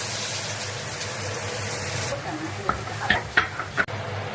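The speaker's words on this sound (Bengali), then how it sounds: "আর এদিকে কড়াইয়ে তেলে পেঁয়াজ কুচিটা একটু ভেজে নেবো" Chopped onion frying in oil in a kadai gives a steady hiss that fades halfway, followed by several short knocking and clattering sounds from kitchen work close by; no one speaks.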